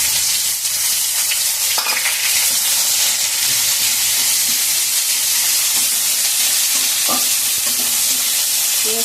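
Chopped onion fries with cumin in a hot pan, a loud, steady sizzle with a broad hiss, broken by a few faint stirring clinks and scrapes.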